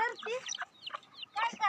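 Free-ranging village hens cluck in short, bright bursts close by, several calls in quick succession with brief pauses between them.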